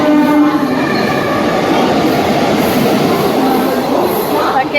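Loud rumble and rattle of a train at Dadar station, with a long horn-like tone and rhythmic clatter of wheels over the rails.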